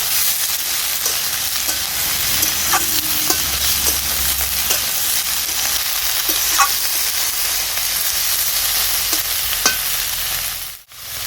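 Spinach and spring onion greens frying in a pan for a Bengali spinach ghonto are stirred repeatedly, with a constant close sizzle overlaid by scattered scrapes and taps of the spatula and no speech.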